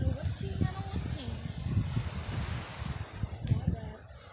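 Wind buffets the microphone by the sea on a barangay tour in Bonga, Santa Maria, Romblon, with surf washing in the background, while several people talk over the noise.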